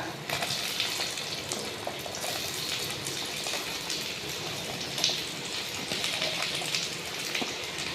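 Curry leaves and onion fry in a pan with a steady, soft crackling sizzle and scattered small pops, faint and continuous throughout.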